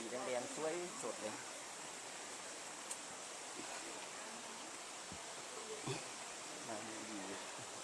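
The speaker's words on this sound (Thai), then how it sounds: "นี่ไงน้ำตกนะ" A small waterfall trickles steadily in Phu Pha Lek National Park, a faint continuous wash of running water with insect buzz in the background and brief bird-like chirps.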